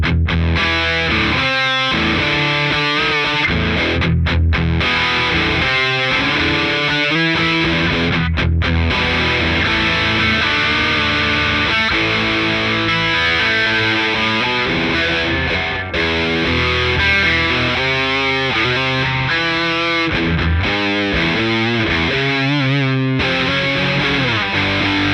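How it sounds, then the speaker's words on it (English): An electric guitar runs through a ProCo RAT distortion pedal with the filter fully open and distortion at mid setting. Loud, thick, saturated riffs and sustained chords play continuously for about 25 seconds, with no talking. "Let's test with a filter completely open and the distortion mid-range, quite enough volume."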